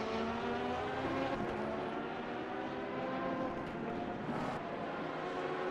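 A steady, high-revving race car engine in a sim racing endurance race at Circuit of the Americas drones continuously, a buzzing whine holding at close range with slight shifts in pitch.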